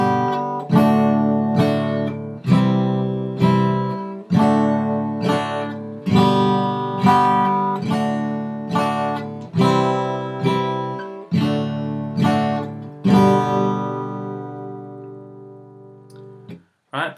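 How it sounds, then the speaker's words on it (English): A beginner chord progression is played with each chord struck twice at a slightly quicker pace. Regular paired attacks each ring and decay, sounding clear and close for about sixteen seconds before fading out. "you can just play each chord twice and speed up the progression slightly"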